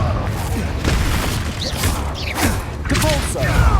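A Confringo fire spell is cast in Hogwarts Legacy, a loud blasting burst with mechanical clanks and booming impacts, layered over game music and effects through a short dense stretch.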